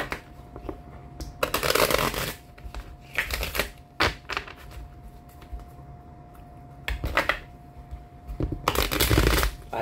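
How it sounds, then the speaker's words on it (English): Tarot cards shuffled by hand in several loud, crackling bursts, each lasting about a second, with short quiet gaps between them and a faint steady hum underneath. "let me shuffle one more time."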